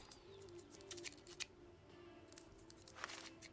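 Scissors snip through plants in the video game Life is Strange 2, a few short crisp cuts in close succession over faint ambient background, with no talking.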